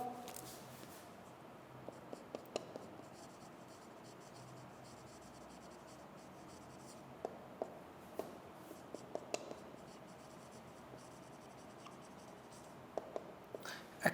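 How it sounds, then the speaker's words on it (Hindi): A teacher writes a word on a board during an English lecture, with faint scratchy strokes and small taps over a quiet room tone and soft background voices. "मैं लिख भी देता हूं"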